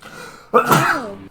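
A single loud sneeze bursts out partway through, preceded by quiet background and a brief spoken exclamation.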